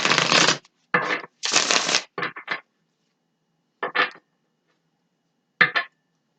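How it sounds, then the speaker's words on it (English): Tarot cards are shuffled by hand in several quick riffling bursts, close and crisp, with a long quiet gap before two final short shuffles. "one more shuffle"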